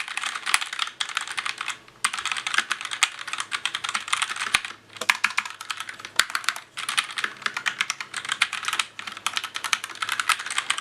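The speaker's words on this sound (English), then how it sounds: "if you're typing fast" Rapid mechanical keyboard typing clatters close by in fast bursts with short pauses between them.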